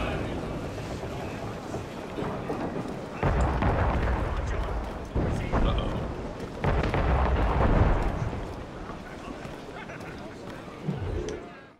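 Ship cannons firing in a naval battle in Assassin's Creed Rogue, heavy booming volleys over wind and water noise, with a strong burst around the middle and another later, while a voice shouts commands.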